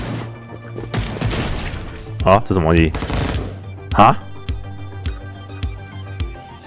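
Gunshots in a video game, the Chinatown shootout level BigDay: a string of sharp loud cracks spaced across the clip, with startled speech between them.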